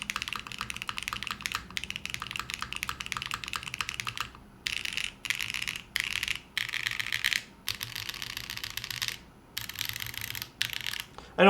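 Typing on a gasket-mounted mechanical keyboard: close, quick clacking keystrokes in bursts separated by short pauses, with no voices.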